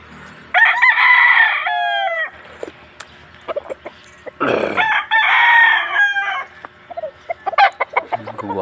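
A white fighting cock crows loudly and close by on a farm, giving two long, strained cock-a-doodle-doos separated by clucks and short bursts of activity.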